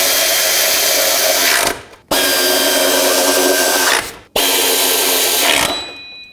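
A power tool snugs bolts on the timing cover of a 2001-07 Toyota Sequoia. Three long, loud, close whirring runs are separated by abrupt short stops.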